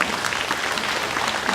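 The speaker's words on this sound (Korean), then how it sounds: "다시 한번 뜨거운 박수 좀 부탁드립니다" A forum audience at a residents' discussion in Eunpyeong applauds a district mayor warmly, a brief, full burst of many hands clapping at steady volume.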